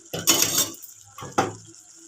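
Two short splashing pours of water hit a metal pot of simmering goat-head curry, one long and one brief, close up with no talking.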